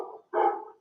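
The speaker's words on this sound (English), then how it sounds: "There's a dog barking." A single dog barks twice nearby, a short muffled yap followed by a louder, fuller bark, alone without talking.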